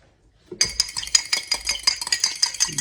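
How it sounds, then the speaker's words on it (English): One egg whisked with a utensil in a cup: after brief quiet, a quick run of rhythmic clinking strokes against the cup, close and clear, with no talk. "Beat it. Give it a mix."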